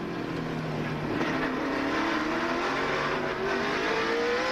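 NASCAR stock cars racing at the 2003 Dodge Save Mart 350 road course, engines roaring and rising in pitch as they accelerate, a steady loud drone of several cars close by throughout.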